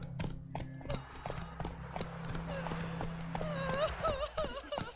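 Roach, Geralt's horse in The Witcher video game, clip-clops in a steady walking rhythm of hoof beats, with a low ambient drone beneath and a couple of whinnying neighs near the end.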